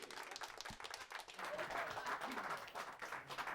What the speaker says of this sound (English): I'm sorry, I just can't get over the applause.